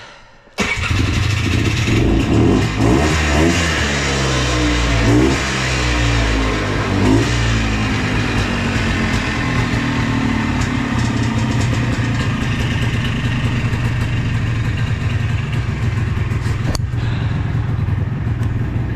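A 2000 Trailblazer engine catches abruptly, then revs up and down in several rising and falling sweeps before settling into a loud, steady, close running drone, with a brief click near the end and no talk.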